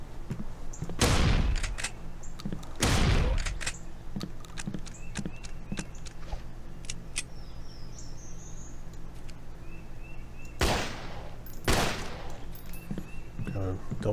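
Gunfire in a zombie video game, with a few loud isolated shots and paired bursts early on and again near the end, set over a steady ambient bed of insect-like chirps and faint background effects.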